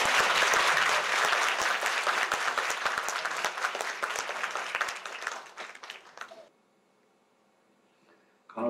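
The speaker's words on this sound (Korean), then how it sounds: "큰 박수로 맞이하여 주시기 바랍니다" Audience at a nursing school Nightingale pledge ceremony gives sustained, dense applause that fades out after about six seconds, followed by near silence and a brief final burst.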